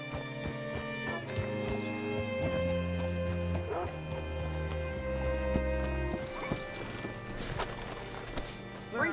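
Horse hooves clip-clop at a slow walk in Red Dead Redemption 2, set under sustained musical tones, with a horse snorting near the end.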